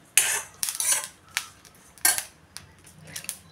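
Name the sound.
fennel seeds crackling while roasting in a pan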